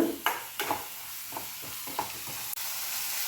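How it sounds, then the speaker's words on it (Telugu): Bitter gourd (kakarakaya) frying in a pan with spices, a steady close sizzle under a string of spatula stirs and scrapes, no one talking. "ఇప్పుడైతే కాకరకాయలు వేయించుకుని కాకరకాయలు వేసుకుంటున్నా"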